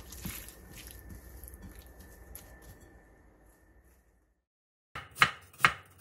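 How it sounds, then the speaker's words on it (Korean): A knife chops onion, green chili peppers and green onion on a cutting board, first as a steady run of soft cuts, then after a brief pause a few loud, sharp close-up chops. "양파 4분의 1개를 채 썰고 청양고추 2개, 홍고추 2분의 1개, 대파 2분의 1개는 어슷썰기 해주세요."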